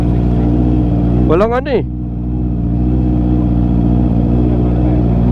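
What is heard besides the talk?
Honda CB650R motorcycle engine revving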